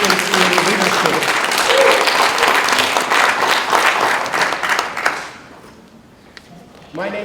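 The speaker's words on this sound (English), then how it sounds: "So let's have one round of good applause for them for their dedication to leadership." A room of people applauds panel members at a legal community event, with loud, dense clapping for about five seconds before it quickly dies away into near silence and a brief sound at the end.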